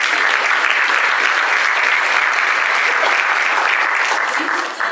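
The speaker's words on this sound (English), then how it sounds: "Let's have another round of applause for our outstanding Miss contestants and staff" Loud, continuous audience applause at a regional Miss pageant and teen competition, honouring contestants and staff, with the clapping dense and even throughout and a faint rise of voices near the end.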